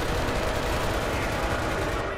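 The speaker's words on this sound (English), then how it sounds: "Did somebody build an MG on the roof?" Machine gun fire in a World War II video game set during a German counterattack in the Hurtgen forest, a dense, loud, continuous rattle of rapid shots with voices talking underneath.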